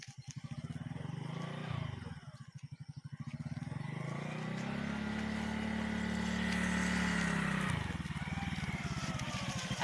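A motorbike engine idles and then revs up into a sustained drone as the bike is ridden by a first-time rider, settling back down near the end, close and fairly loud.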